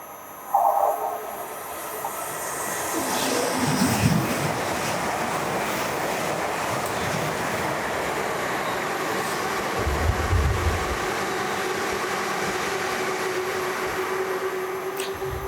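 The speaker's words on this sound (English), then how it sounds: "Another Pendolino just about to zoom past on its way to London Euston." A Pendolino express train bound for London Euston races through the small rural platforms of Cheddington station, its rushing roar rising quickly and staying loud and steady for over ten seconds, with wind noise and a brief two-tone horn near the start.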